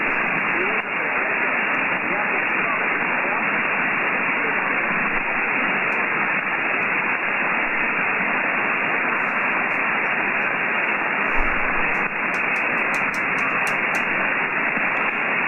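Steady, loud hiss of ham radio static on the 40 meter band, a dense unbroken wash of noise filling the whole stretch, with a few faint ticks and crackles near the end.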